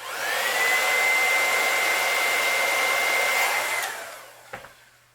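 A hair dryer runs steadily for about four seconds, drying fresh paint on a hand-painted bluegill-pattern crankbait fishing lure, then winds down. A brief clatter follows, and there is no talk.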